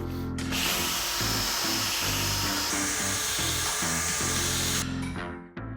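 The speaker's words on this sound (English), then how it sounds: "Bit of interior cleaner again, heavy duty drill brush" A heavy-duty drill brush whirs against builder's van seats as interior cleaner is agitated, a close, loud high-pitched spin with uneven scrubbing pulses before it cuts off.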